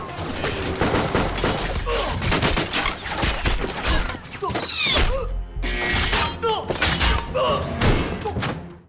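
Rapid gunfire and heavy thuds crash through an action film scene as two men flee into a secret room, a dense, loud barrage of shots and impacts with brief lulls and scattered voices.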